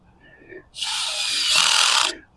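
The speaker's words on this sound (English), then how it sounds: "So let's try it with the drill." A power drill driving a ground anchor whirs loudly for over a second, its pitch rising as it bites in, with a short softer buzz just before.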